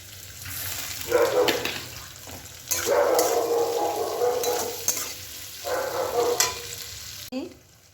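Onions fry in a pan with salt added to soften them, giving loud bursts of sizzling and scraping as they are stirred, broken by short quieter pauses.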